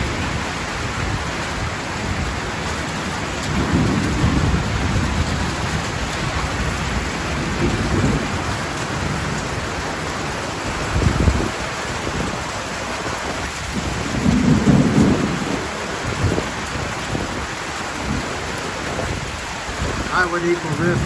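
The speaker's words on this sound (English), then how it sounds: "I would equal this with a good Texas thunderstorm." A Texas-style thunderstorm with heavy rain pours down steadily, breaking a month-long dry spell, while low rumbles of thunder roll in several times over the constant hiss of rainfall.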